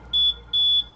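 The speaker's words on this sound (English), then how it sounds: "because if I go with the stock horn, it sounds like this." The stock electronic horn of a Segway Ninebot GT1 electric scooter gives two short, thin, high-pitched beeps in quick succession, close and clear with nothing else around.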